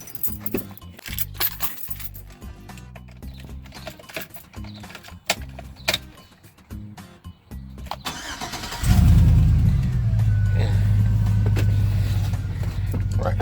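A truck's engine cranks and catches after some clicks, clatter and key jangling, then settles into a loud, steady idle near the microphone.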